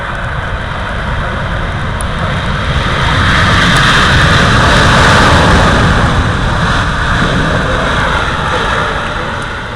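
An Airbus A380 lands at the 2009 Oshkosh AirVenture show, a loud, broad jet engine roar that swells toward the middle and then slowly eases, with no voices.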